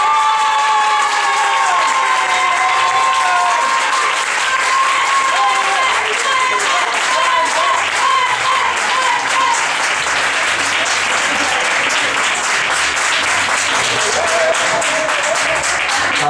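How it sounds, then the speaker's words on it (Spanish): A gala audience applauds the performing group Duende Burlón with loud, sustained clapping, cheers and crowd voices that hold steady throughout. "aplausos por orden de actuación para el grupo Duende"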